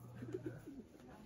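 A racing pigeon coos softly in a few low, rolling phrases after a 267 km derby lap from Pio Duran, Albay, heard faint against quiet background noise.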